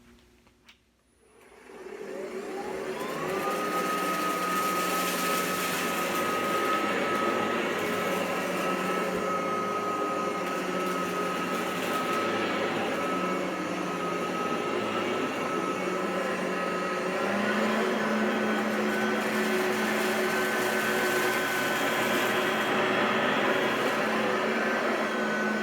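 A Hoover ONEPWR HEPA cordless bagged upright vacuum spins up after a click into a loud, steady motor whine and airflow roar that holds for over twenty seconds, shifting slightly in pitch partway through.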